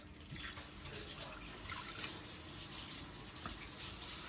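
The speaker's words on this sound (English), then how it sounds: "So then I'm gonna pour my apple juice in there." Apple juice poured into a hashbrown casserole dish, a steady splashing liquid stream running alone at moderate level for several seconds, with a faint drip-like spike near the end.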